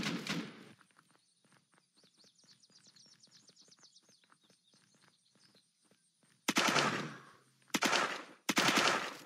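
Gunfire in the Unturned video game, a rapid run of quiet, evenly spaced shots lasting several seconds, then three loud, separate blasts at the end.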